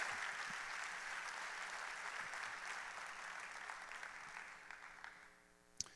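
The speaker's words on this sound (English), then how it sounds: "Give these guys another round of applause" Staff audience at a school district kick-off event applauding, a dense sustained wash of clapping that fades toward the end, with a sharp clap near the close.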